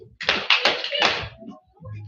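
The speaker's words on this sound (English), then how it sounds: "3 claps." A poetry slam audience claps three times in unison, each clap a loud, close, sharp burst in quick succession, followed by a quieter moment with faint room noise.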